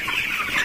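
Broiler chickens on a poultry farm, about 22 days old, cluck in a brief, busy burst, several birds chattering together close by.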